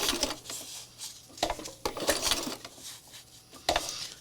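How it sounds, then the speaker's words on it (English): A sewing machine stitches fabric for a doll in slow, single stitches, giving irregular close mechanical clicks and taps with pauses between them and no speech. "you might have to do one stitch at a time before you readjust your presser foot"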